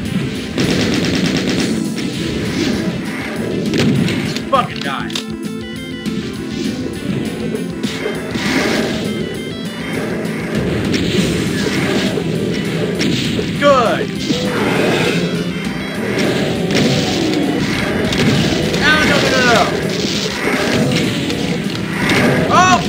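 Dense, continuous gunfire from pistol-wielding enemies in the Doom 2 video game, rapid overlapping shots and crashes over a busy game soundtrack, with talk mixed in throughout.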